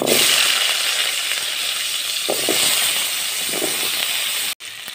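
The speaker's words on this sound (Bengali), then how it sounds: "এইবারে আলুটা ভেজে নেব। আলু ভাজার জন্য" Potatoes fry in hot oil in a pan for a Bengali fish curry with cauliflower, making a continuous loud hiss that cuts off abruptly just before the end.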